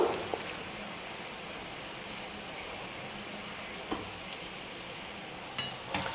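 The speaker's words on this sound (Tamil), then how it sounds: "கரண்டி வச்சு இப்போ அப்படியே லைட்டாக கலந்து கொடுத்துக்கலாம், அப்போ தான் எல்லா பக்கமும் நல்லா வெந்து வரும்" Sweet bondas fry in oil with a soft, steady sizzle, broken by a few brief knocks and scrapes as a ladle stirs them.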